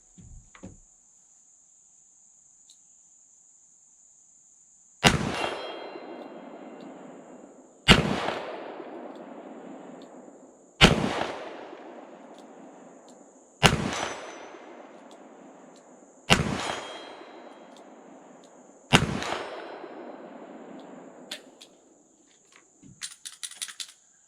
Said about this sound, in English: got a plate sitting out there 50 yards. We'll take some shots at that range, double action